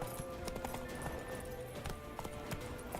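A horse gallops in The Witcher 3: Wild Hunt, with steady clip-clop hoofbeats on the ground set against quiet ambient game sound.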